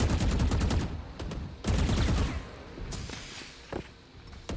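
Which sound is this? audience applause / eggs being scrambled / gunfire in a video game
gunfire in a video game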